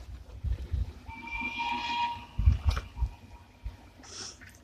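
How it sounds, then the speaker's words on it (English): A steam train's whistle sounds faintly in the distance as one long, steady blast over outdoor rumble and low thumping handling noise near the microphone, with no talking. "Can hear the train whistle, the steam train."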